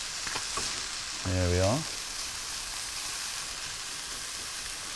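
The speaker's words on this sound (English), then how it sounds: "I'm just going to give that a stir through. You can see the onions and tomatoes are starting to break down" Onions and tomatoes sizzle steadily in a pan for a tomato chorizo cannellini stew, a close, even hiss with light stirring, and a short spoken phrase cuts in briefly.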